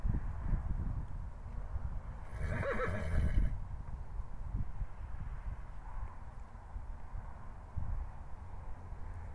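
A mare whinnies once, a loud wavering neigh at moderate distance, over a steady outdoor rumble of wind.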